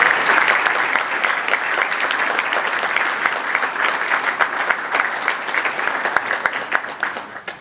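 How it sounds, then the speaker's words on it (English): Sustained applause from an audience at a military flight training class graduation ceremony, a dense wash of clapping that stays loud and steady for several seconds before tapering slightly at the end. "Please join me in a round of applause for our team of contractor, civilian, and military personnel"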